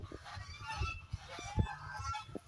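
Domestic ducks grazing in a village yard give short, low honking quacks, several scattered calls at moderate distance over a soft outdoor background.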